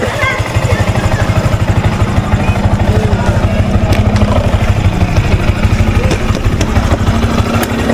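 A motorcycle engine runs close by with a steady, rapid, chugging pulse that stays loud throughout, its rhythm holding an even beat for several seconds.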